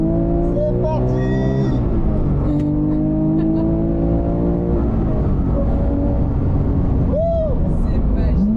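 A Porsche GT3 RS accelerating on a race circuit, its engine note climbing in pitch through the gears, loud and close from inside the car while people talk over it.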